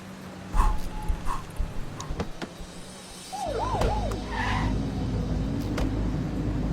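A police K9 dog barks in The Precinct, the short sharp barks coming in bursts early on, followed by a car engine and a warbling siren in a busy street scene, with no talking.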